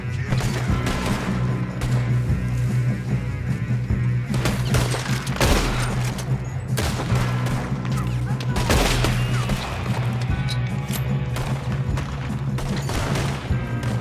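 Gunfire in the Western video game Red Dead Redemption 2, with repeated loud rifle and pistol shots in irregular bursts over a low musical drone, plus some faint crashes.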